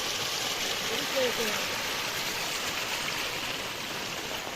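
Water rushes along a stream in heavy rain on a stormy walk toward Mandangad. It makes a dense, steady roar close by, with a voice faintly heard briefly under it.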